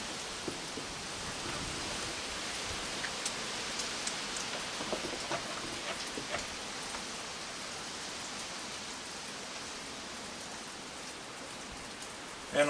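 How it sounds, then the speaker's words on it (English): Heavy rain from a storm coming up the seaboard pours steadily outdoors, a dense, even hiss of drops on surfaces that stays constant throughout and is heard alone. "we're getting this rain from that heavy storm that comes up the seaboard"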